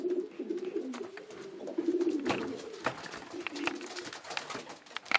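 A domestic pigeon cooing softly while being handled, repeated low throaty coos in an uneven rhythm, close by and faint, with light rustling and handling noises in between.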